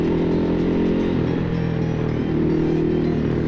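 A 2016 Ducati Hypermotard 969 motorcycle being ridden on a wet road, its engine a steady close rumble with wind noise all through, no talk.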